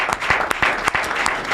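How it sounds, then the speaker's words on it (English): An audience claps for a man during a Nigerian talk program, a steady patter of applause with a few sharp louder claps standing out, continuous and fairly close for the whole short stretch. "Make una clap for him, I beg."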